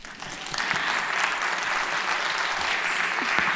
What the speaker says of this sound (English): Give applause for them.